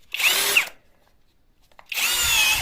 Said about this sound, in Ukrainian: Зараз трошки продемонструємо, як працює.